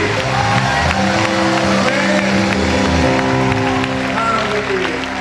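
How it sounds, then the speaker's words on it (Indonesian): A congregation at a youth Christmas revival meeting claps hands hard and continuously, dense loud applause mixed with whoops and shouts over ongoing music. "Naikkan dua tanganmu, tepuk tangan sekuatnya."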